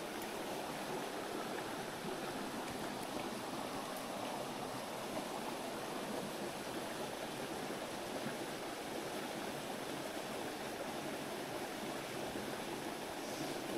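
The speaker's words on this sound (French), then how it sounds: "Voilà, c'est un ruisseau" A mountain torrent flows steadily during a fly-fishing outing for trout, a constant broadband rush of water with no voices, even and unbroken throughout.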